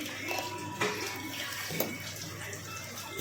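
Water being poured and splashing in a kitchen vessel as salt and sugar mixture is prepared for mathiya dough, a faint steady trickle with a couple of small clinks.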